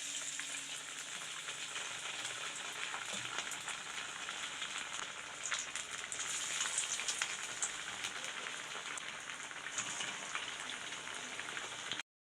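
Sabudana (javvarisi) vadai sizzle steadily in hot oil as a fresh batch cooks, a dense, continuous crackle with no talking.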